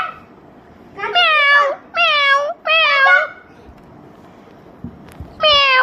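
A child imitates a cat, giving four drawn-out, high, wavering meows: three in quick succession, then a pause with faint sounds before the last one.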